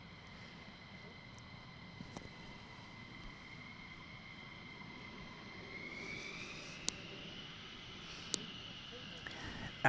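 A military jet flies at RAF Lakenheath, heard as a faint, distant rumbling roar with a thin whine that slowly rises in pitch partway through, under quiet outdoor background.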